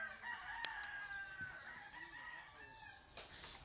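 Chickens and a rooster, fowl kept by a family in the Philippines, cluck and crow at a distance, faint and thin against outdoor background noise.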